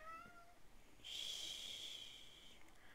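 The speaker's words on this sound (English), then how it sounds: "sorry about my cat in the background, if you can hear him." A pet cat meows in a bedroom, opening with a few short meows, then one long, loud, sustained meow that slowly fades away.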